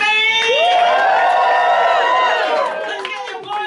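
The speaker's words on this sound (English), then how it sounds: "let's start screaming!" A live crowd at a show cheers and whoops with sustained high-pitched shouting voices, loud and close, gradually easing toward the end.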